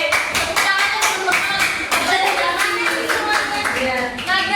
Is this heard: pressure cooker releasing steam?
no